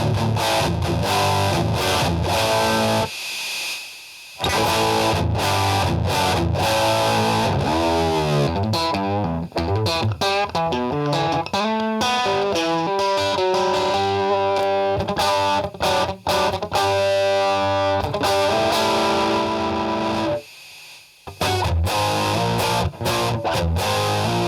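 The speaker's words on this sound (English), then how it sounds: "The noise is almost infernal. Distortion all the way." Electric guitar played through a distortion pedal into a ghettoblaster, loud, heavily fuzzed chords and sustained riffs with abrupt stops and short silent gaps between phrases, no voices.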